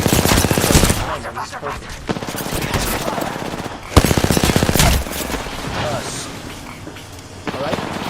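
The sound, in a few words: gunfire in a video game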